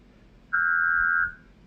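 A single clean electronic beep, steady and mid-pitched, sounds for under a second against a quiet background.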